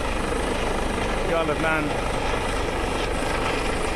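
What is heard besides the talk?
RAF helicopter approaching lifeboat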